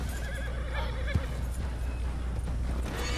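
A horse whinnies over a steady low rumble in Red Dead Redemption 2, with a sharp thud about midway and faint hoofbeats mixed into the background noise.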